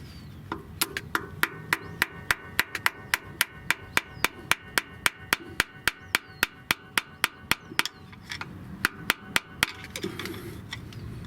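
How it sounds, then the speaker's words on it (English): Steady metallic taps from a rubber hammer striking a flathead screwdriver to loosen the stuck oil filter housing cap on a 2010 Toyota Prius, roughly thirty sharp, evenly spaced strikes at close range, with no talking. "you must use a flathead screwdriver and a rubber hammer to loosen the oil filter housing cap"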